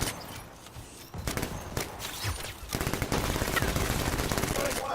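Anthem's game demo fires rapid automatic gunfire in dense, crackling bursts that continue almost without pause, with a loud, sharp attack and some background game effects.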